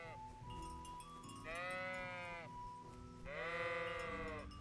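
Sheep in the medieval game Kingdom Come: Deliverance give two loud, close bleats, each about a second long, over faint background ambience.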